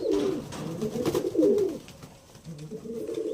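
Andhra pigeons kept in a box coo close by in low, throaty, rolling phrases that rise and fall continuously, with no talking.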